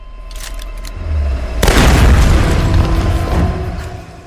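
A mine in Tomb Raider (2013) is shot and explodes with one loud, close boom that rumbles on for a few seconds, with no talking.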